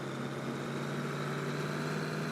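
A tractor engine in the farming video game Farming Simulator 22 idles steadily with a low, even hum and faint mechanical vibration, quiet and unbroken, with no voices.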